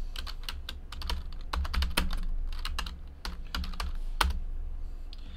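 Someone types on a computer keyboard while logging football trading card hits, with quick irregular clicky keystrokes in short bursts, close and clear with low background hum.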